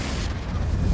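Confringo fire spell from Hogwarts Legacy, a short dense rumbling explosion lasting about a second, loud and close with no one speaking.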